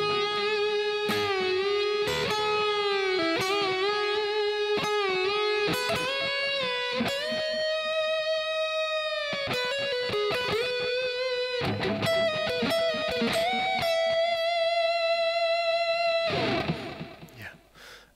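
Electric guitar playing the second section of a solo, loud and alone: singing sustained lead lines with bends and slides, a higher held note near the end, then a quick fade.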